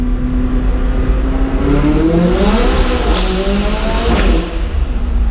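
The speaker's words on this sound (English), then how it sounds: "When you put your right foot down in this, you sort of time warp." A supercar accelerating hard through a tunnel, engine note rising steadily in pitch through the gears with reverberant roar, loud and close, alone without talk.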